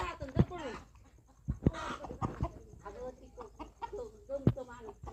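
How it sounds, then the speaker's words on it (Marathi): Hens clucking and squawking as they are chased and caught in a farmyard, with intermittent sharp clucks under nearby talking. "कोंबड्या धरीत आहे."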